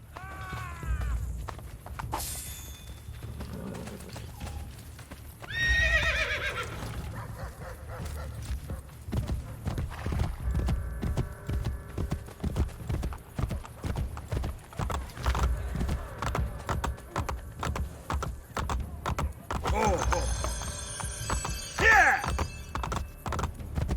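In the Assassin's Creed Brotherhood video game, a horse clip-clops steadily over hard ground with repeated rhythmic hoofbeats and brief whinnies, set among game sound effects and occasional voices.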